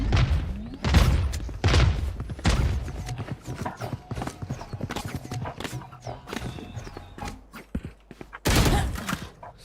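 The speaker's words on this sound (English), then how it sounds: "Grenade! All missiles away." Grenade blasts and bursts of gunfire in the shooter game Valorant, scattered booming impacts and sharp shots in irregular clusters, loud and close, with a heavy final blast near the end.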